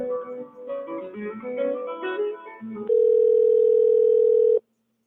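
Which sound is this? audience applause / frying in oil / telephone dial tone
telephone dial tone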